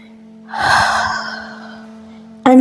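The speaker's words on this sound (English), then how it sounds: "Breathe deep" A single deep inhalation, a loud close breath drawn in over about a second and a half during a guided meditation, then fading, with a steady low hum underneath and a sharp onset of another sound at the end.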